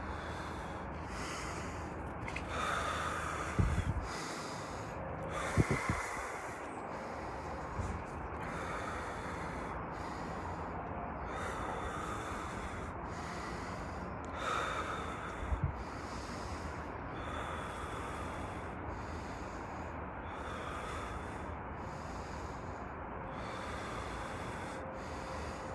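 Rapid rhythmic breathwork exercise, second round: steady forceful inhales and exhales through the nose repeating about once a second for the whole stretch, close and alone, with a few louder bumps.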